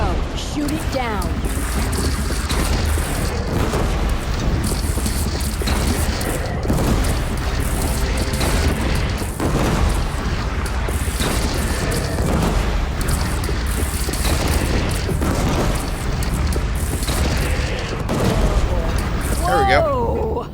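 A bridge is shot down and blows apart in the video game Horizon Zero Dawn: a dense, sustained roar of booming blasts, crashing debris and battle noise fills the scene while voices talk over it.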